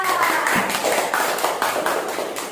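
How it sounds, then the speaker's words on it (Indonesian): Audience members clap for Siva at a school counselling session, a moderately loud patter of hands with uneven, pulsing bursts throughout, no voices over it. "tepuk tangan dulu untuk Siva"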